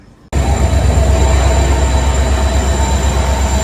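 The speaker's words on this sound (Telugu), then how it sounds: "గునుపూర్ బండి ప్లాట్ఫామ్ నెంబర్ 6కి వచ్చింది" Visakhapatnam–Gunupur fast passenger train pulling into a station platform, a loud steady rumble of rolling wagons starting abruptly after a brief quiet and holding with high squealing tones throughout.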